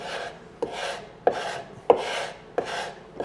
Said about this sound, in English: you can use a chisel as a scraper